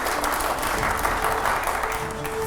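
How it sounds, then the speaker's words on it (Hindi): An audience at a Hindi-language panel debate applauds in a steady, dense burst of clapping that holds evenly throughout with no voices over it. "अगले सवाल के लिए जोरदार तालियां हो यहां पर।"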